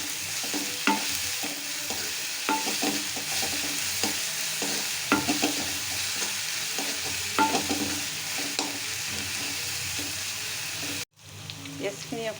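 A spatula stirs onions frying in leftover fish oil, and a continuous sizzle runs under repeated scraping and tapping strokes for about eleven seconds before the sound cuts off sharply. A faint voice may be present in the background.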